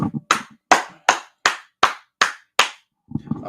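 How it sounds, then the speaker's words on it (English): Seven sharp, evenly spaced hand claps ring out close and loud in a steady rhythm, with a brief murmur of voices at the start and end. "clap it up"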